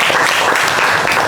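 Classroom applause from students during a computer systems lesson, a short dense burst of clapping filling the whole moment at close range.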